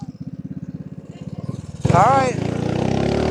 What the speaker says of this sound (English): it's like a power washer motor